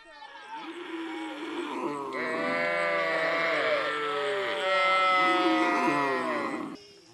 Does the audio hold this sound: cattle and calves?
yes